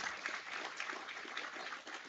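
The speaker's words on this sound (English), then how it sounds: "Could you give the panel, Brett, Disley, and Dawn, a huge round of applause for joining us today?" Applause from a business audience for a panel on Auckland infrastructure, an even, continuous wash of many hands clapping, soft and somewhat distant.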